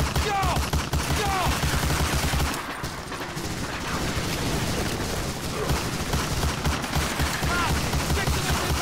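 Gunfire fills a military video game battle scene, with dense rapid automatic bursts and overlapping shots that keep up loud and constant throughout and mix with chaotic battlefield noise.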